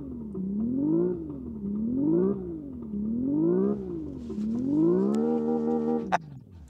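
Synthetic engine sound from a Hyundai IONIQ 6 N electric car, played in a studio: a looping, rising and falling revving tone like gear changes, then a longer climbing rev that cuts off with a sharp click, loud and alone.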